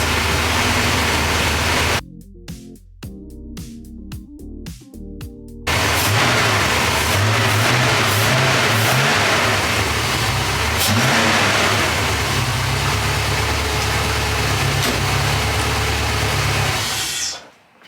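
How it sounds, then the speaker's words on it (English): Porsche 928 engine with a suspected misfire cranks with a few short bursts, then catches and runs loudly, revving repeatedly with a steady mid-range drone before cutting off at the end; no talking. "I revved the engine up and there were no pops, no bangs, no smoke coming out the back"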